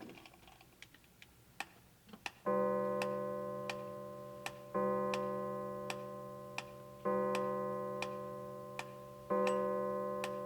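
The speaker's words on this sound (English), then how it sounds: "The clock struck 9." A clock ticks in an even, steady rhythm in a Christmas Carol radio play, while sustained bell-like chimes strike four times over the ticking.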